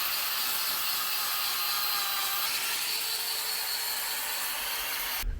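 A cordless grinder strips paint from metal in a cold off-grid winter build, giving a steady, loud abrasive whine with no pause, cutting off abruptly at the very end.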